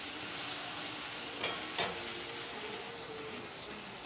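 Spiced potatoes frying in oil, a steady hissing sizzle throughout, broken by two brief stirring knocks a little before two seconds, heard alone without speech.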